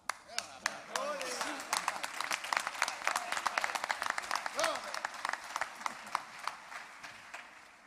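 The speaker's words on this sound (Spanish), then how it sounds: "Un aplauso." Scattered clapping from an audience at a carnival murga competition's first elimination round, sharp claps building into a steady patter with voices and chatter mixed in throughout.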